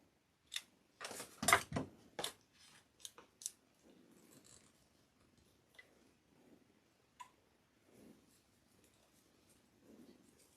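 Scissors trim material for a balloon bouquet, giving a burst of sharp, close snips and clicks early on, then a few scattered quieter cuts and faint handling rustles in an otherwise quiet room.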